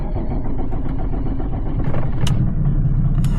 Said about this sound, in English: Cold start. I already know the glow plugs are gonna struggle.